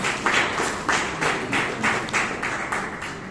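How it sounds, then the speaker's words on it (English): A Toastmasters club audience in Bangalore applauds Toastmaster Anna with a steady round of clapping. The clapping is moderately loud, sustained through the whole span, and rises and falls in gentle pulses with no clear voices above it. "Let's give Toastmaster Anna a good round of applause"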